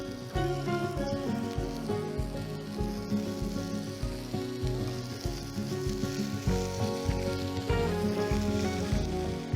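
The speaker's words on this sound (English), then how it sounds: "This is just a dry frying pan and you just pop them all in." Steady sizzling and crackling of smoked cheese slices frying in a dry pan, continuous and fairly quiet, with a low rhythmic rumble beneath.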